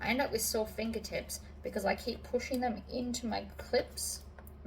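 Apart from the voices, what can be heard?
None of the usual background noises is heard.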